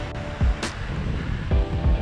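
Gentle sea waves wash in at a small bay at Ban Krut beach, a continuous surf roll with a few louder swells, mixed with steady wind rumble on the microphone.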